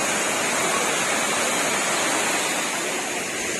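Tining Falls at GNS Nature Park pours in a steady, loud, broadband roar of falling water, continuous and close throughout with no break.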